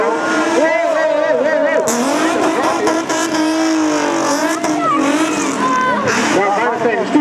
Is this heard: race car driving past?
yes